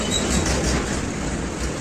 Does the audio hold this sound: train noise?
yes